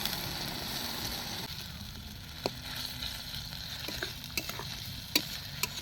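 Masala with chopped tomatoes and a little water fries in a pan for mutton curry, a continuous close sizzle under repeated stirring and scraping with sharp utensil clicks against the pan.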